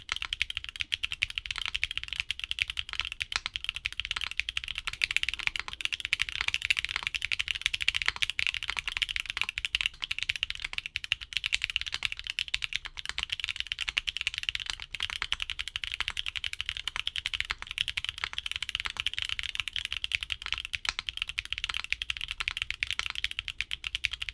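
Steady, rapid clacking of Haimu Viola Tricolor mechanical keyboard switches being typed on continuously, close and even in rhythm, with no voices.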